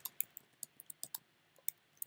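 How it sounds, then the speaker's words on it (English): Keystrokes on a computer keyboard: sparse, irregular light clicks, faint and close, with no talking. "I'm just typing that into my"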